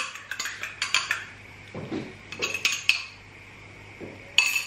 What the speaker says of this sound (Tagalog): Lutuin natin yung egg.